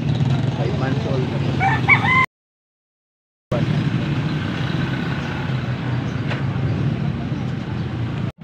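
A rooster crows loudly near the start over steady outdoor background noise at a gamecock market in Angeles, Pampanga, which cuts out briefly and then resumes.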